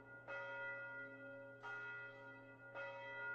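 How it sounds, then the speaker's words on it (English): Bell in the video game Nier Reincarnation, rung at the stairs leading to a prison called the Cage, strikes three times at even intervals, each clear metallic tone ringing on with long overlapping harmonics, moderately loud and steady. "Oh, there's a bell."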